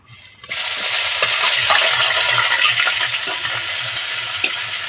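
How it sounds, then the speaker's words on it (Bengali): Chopped onion frying in hot salted oil in a village kitchen, a steady loud sizzle that starts abruptly and continues with light stirring clicks throughout. "এবারে পেঁয়াজটা কিছুক্ষণ ধরে লাল লাল করে ভেজে নেব"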